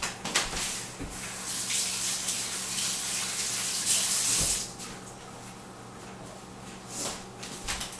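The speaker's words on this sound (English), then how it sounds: "and then quickly wash my hands" Hands are washed under a running kitchen tap after mixing fries, a steady rushing hiss of water that stops partway through, with splashes and a few knocks at the sink before and after.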